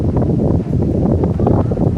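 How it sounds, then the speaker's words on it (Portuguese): Strong wind buffets the microphone high up on the Eiffel Tower in Paris. Low, continuous gusty roaring with rumbling surges runs through the whole clip, loud and close. "Ai, tá ventando pra caramba."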